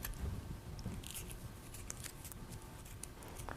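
Scissors snip and trim the stem of a flower boutonniere, a series of crisp close cuts and rustles at an even, busy pace, with no talking.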